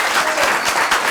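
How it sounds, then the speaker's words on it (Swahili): Studio audience at a live television talk show breaks into dense, steady applause and cheering, loud and close for about a second. "Wapi makofi"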